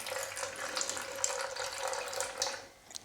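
Pineapple juice poured into ground sausage meat for pork and pineapple bratwurst, a steady close liquid stream running for about two and a half seconds before tapering off, with no talking.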